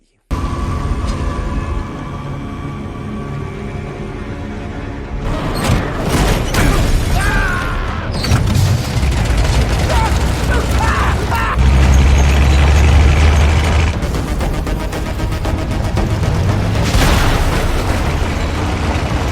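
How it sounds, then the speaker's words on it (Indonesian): War film scene where a soldier lights a Molotov cocktail and it explodes, with loud booming bursts and rumbling debris mixed with dramatic score and voices over nearly twenty seconds. "Dan dia melihat ada prajurit di depan yang lagi siap-siap menyalakan bom molotov."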